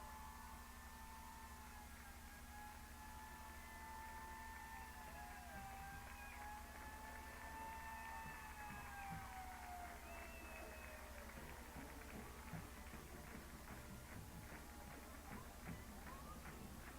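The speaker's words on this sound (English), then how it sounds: "The Yuma Police Department has their cars in place, sirens going" Yuma Police Department cars sound their sirens at a high school football game, wailing tones rising and falling at a distance above a steady crowd rumble and wind noise.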